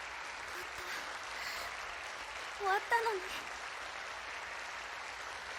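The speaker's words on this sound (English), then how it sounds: "Swept on the storm, receiving unending applause, I search out my Amate partner." Faint, continuous crowd applause following a big stage performance, a soft even roar with a short spoken voice briefly rising above it midway.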